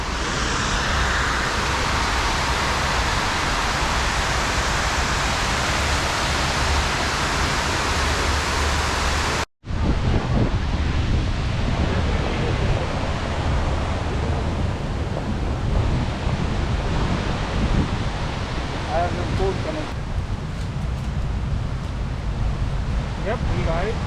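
Water pours steadily from fountain pools in New York City, a loud, even rushing wash that fills the scene from start to end, with faint voices beneath.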